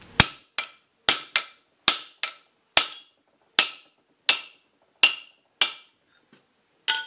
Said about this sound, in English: you put the chisel down, and once again, hit the chisel